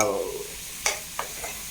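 Onion, tomato, garlic and ginger fry in a pan with a soft, steady sizzle, broken by a couple of brief stirring scrapes close by.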